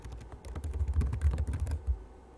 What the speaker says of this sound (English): If you start typing, OneNote will put it wherever it is that you've clicked.